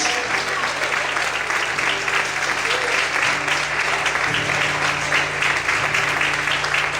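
A church congregation claps steadily at an evening service, a dense, sustained wash of applause from many hands with a low hum of music or voices underneath.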